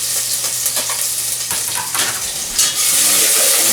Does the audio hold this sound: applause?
no